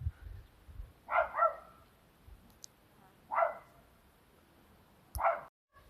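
A few short barks from agitated dogs at some distance, spaced out with quiet gaps between them.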